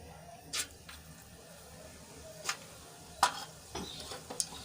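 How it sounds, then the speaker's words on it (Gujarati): Mustard seeds spluttering in a generous amount of hot oil, heard as scattered sharp pops and crackles over a faint sizzle, quiet and close, irregularly spaced. "હવે આપણે રાઈ ફૂટી ગઈ છે"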